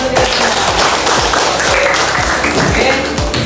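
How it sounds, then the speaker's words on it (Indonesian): Classroom applause from students in a coding lesson, loud close rhythmic clapping in quick repeated strokes, with some crowd voices underneath throughout. "beri tepuk tangan untuk kita semua"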